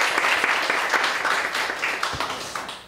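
Audience applause for a guest speaker at a Korean history lecture, a dense burst of many hands clapping close and loud for about three seconds with no talk.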